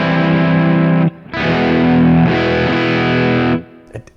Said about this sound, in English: now this knob introduces more of a gnarly texture to the sound. It's got a slightly fuzzy thing about it.